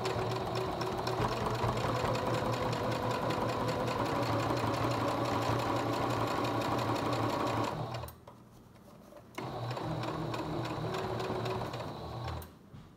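A domestic sewing machine top stitches a fabric face mask with a steady, close mechanical whir. It stops briefly partway through, then runs again before stopping near the end.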